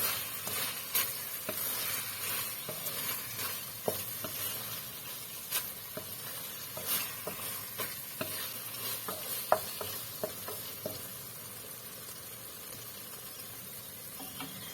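Basil leaves get stirred through fried eggplant and tofu in a pan, a quiet continuous sizzle broken by scattered spatula clicks and scrapes, close and unhurried, with no talking.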